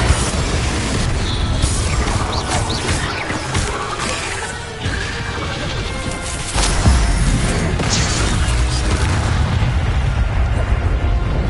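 Loud, dense booming blasts and crashing bursts from the Confringo explosive spell in Hogwarts Legacy, continuous and heavy over a constant rumbling game soundscape with no pauses.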